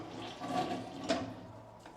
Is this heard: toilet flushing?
yes